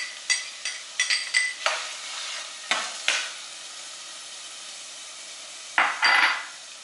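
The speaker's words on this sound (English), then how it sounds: "And I'm going to let that saute on medium heat until it's translucent." Chopped yellow onion and celery sautéing in a pot on medium heat, with a steady soft sizzle broken by several sharp scraping and clinking stirs of a utensil against the pot, close and without talk.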